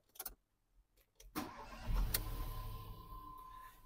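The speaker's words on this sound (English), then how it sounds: "I'm going to start the car now and have a look what's going on." Ford Transit van with a starter motor fault: a few faint clicks and clunks, then a short crank as the engine catches and settles into a steady, close idle hum.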